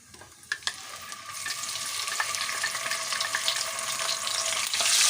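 Ginger, garlic and whole garam masala fry in hot oil, giving a bright, crackling sizzle with a few sharp pops and stirring scrapes that grows slightly louder toward the end, no voices present.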